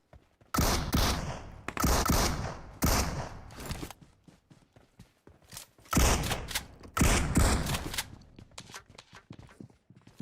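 Bursts of automatic gunfire from the PUBG Mobile battle royale game, loud rapid volleys in several separate strings with short gaps, mixed with lighter clicks and footsteps between them.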